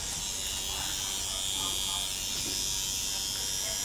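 A permanent makeup needle hand piece buzzes continuously with a steady, high electric hum, held close and fairly quiet, with no talking over it.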